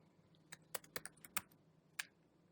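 Several sharp keystrokes on a computer keyboard while a terminal command is typed, spaced irregularly over a quiet background, close and fairly faint, with no talking.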